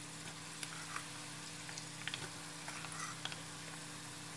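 Chana dal frying with salt and curry leaves in a pan for puliyogare, a steady soft sizzle with a low hum beneath it and a few faint clicks of stirring.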